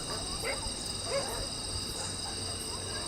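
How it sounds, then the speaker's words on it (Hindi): Several dogs bark in short repeated bursts, faint and distant, under a constant shrill chorus of night insects at a reputedly haunted outdoor location. "इतने ढेर सारे कुत्ते भी आ गए।"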